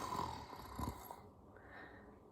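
A voice imitates snoring, with a couple of rough, breathy snorts near the start and then a fainter drawn-out breath trailing off, close and alone.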